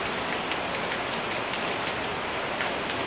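Steady rain pours down on a surface, a dense, even hiss of drops continuing without a break and with no voices.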